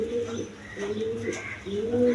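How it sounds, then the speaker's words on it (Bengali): Double-bar pigeons at a pigeon seller's stall coo in low, rolling phrases, several calls overlapping at close range, with faint chirps behind them. "দেখেন ডবল বারের কবুতর"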